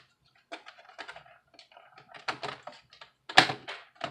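A Toshiba Satellite laptop's plastic cover being pressed back into place: a close run of small, sparse plastic clicks and taps, ending in one sharper, louder snap.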